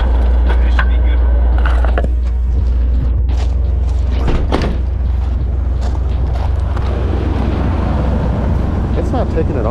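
A 1985 Dodge D150 pickup truck engine idles loudly and steadily throughout, with a constant low rumble, mechanical creaks and clatter, and people talking over it.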